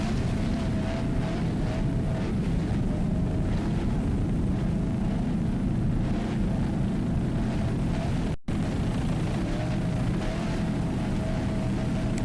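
A 29-foot Fountain race boat with a Chevy-powered 500 horsepower inboard engine, running in a Factory 1 class offshore race at Key West, gives a loud, steady, broadband engine roar throughout, broken by one very brief dropout.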